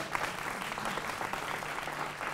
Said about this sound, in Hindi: आपके लिए तालियां बजा रही है यहाँ पर।